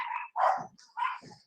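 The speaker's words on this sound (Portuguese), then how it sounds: "Me desculpe o barulho dos cachorros da minha mãe" A household full of dogs barking at home, three sharp close barks in quick uneven succession, loud and clear with short gaps between them.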